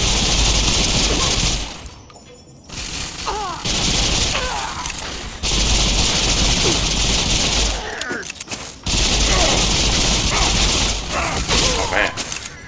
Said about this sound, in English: A green laser shooting rifle